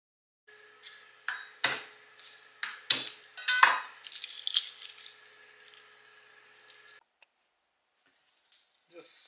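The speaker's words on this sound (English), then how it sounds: "Just sliced onion." Knife slicing onion on a wooden cutting board while preparing beef stew, a series of sharp, uneven chops and taps over a steady background hum, close and fairly crisp, then a short pause.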